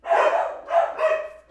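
Several dogs bark in loud, close bursts, about three barks spread over a second and a half, with no talk over them.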